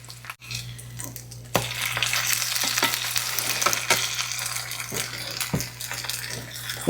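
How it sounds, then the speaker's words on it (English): An egg frying in a pan with its yolk slightly broken, a loud, continuous close sizzle with occasional crackles and a few sharp spatula taps. "I am busting my egg just slightly, okay? Cook it on that side just a little bit."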